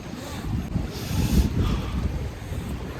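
Cold wind blowing steadily in a snowy mountain valley beside water in Japan, a loud buffeting roar with gusts swelling and easing, no voices.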